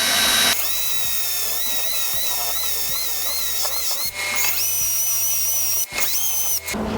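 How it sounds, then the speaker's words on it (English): A power drill slowly bores holes for cabinet pull handles, its whine rising in several separate bursts with short pauses between, close and loud with no talking. "I'm just going to come in here"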